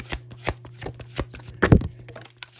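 Tarot cards drawn one after another from a deck during a reading, giving a few soft papery flicks and one louder shuffle-like rustle near the middle, close and clear with no talking.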